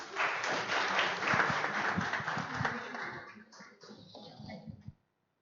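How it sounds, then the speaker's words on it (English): Applause from a meetup audience for the next speaker at a React Native and Flutter event fills the room, dense and steady at first, then thinning into scattered claps before stopping, with some voices mixed in. "Can we have a huge round of applause for him?"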